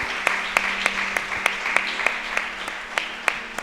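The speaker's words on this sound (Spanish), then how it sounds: "Dele ese aplauso al Señor." A church congregation at a service claps together, a steady patter of hands with sharp individual claps standing out at a regular pace, moderately loud and without talk.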